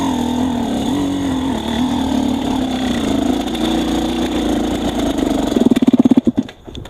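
An XTNG GEN3+ motorcycle engine idling loudly and steadily, then sputtering into a rapid series of chugs before stalling into near silence.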